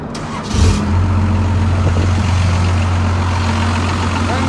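A First Gen Cummins diesel pickup truck engine cranks briefly and catches, then settles into a steady, loud, low rumbling idle that holds close to the microphone.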